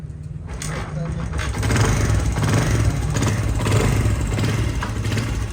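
A motorcycle engine rumbles steadily and grows louder partway through, idling and revving close by while a person talks over it.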